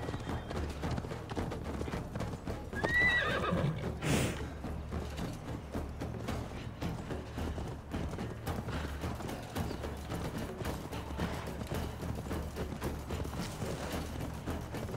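Horse hooves clip-clop at a gallop in Assassin's Creed Valhalla, a steady rhythmic patter running under game music and ambience, with a brief louder swell partway through.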